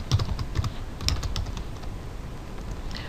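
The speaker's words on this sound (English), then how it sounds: "so let's just say I type creation date" Computer keyboard typing in steady, close clatter of key presses, a few heavier clicks early on, continuing throughout with no speech.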